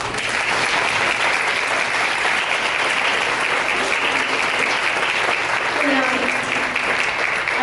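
Conference audience at a diversity keynote breaks into long, loud, sustained applause from a large crowd, with faint voices underneath the clapping.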